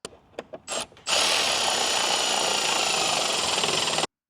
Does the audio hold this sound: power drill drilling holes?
yes